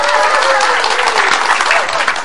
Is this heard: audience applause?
yes